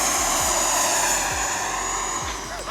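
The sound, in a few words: FMS Avanti 90mm EDF model jet at full throttle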